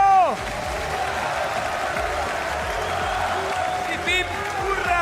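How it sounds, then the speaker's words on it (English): A crowd at a GT World Series Nations Cup motor racing event in Milan applauds and cheers for the competitors, a broad, continuous roar of clapping and whoops underneath an amplified voice and ringing tonal sounds. "let's give a huge round of applause for our competitors for the Nations Cup"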